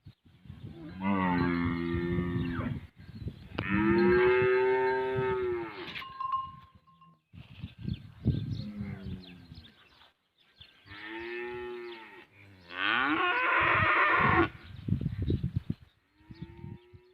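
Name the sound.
cattle and buffalo mooing while being led to water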